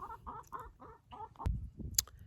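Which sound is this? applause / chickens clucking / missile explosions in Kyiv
chickens clucking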